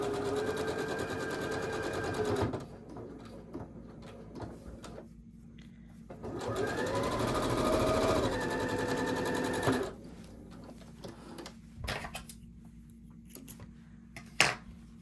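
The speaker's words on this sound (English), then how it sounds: "we're going to sew a 1/4 of an inch seam down the center" A sewing machine stitches a quarter-inch seam on quilt pieces in a quilting setup. It runs in several close, whirring bursts broken by pauses, with light handling clicks and a sharp knock near the end.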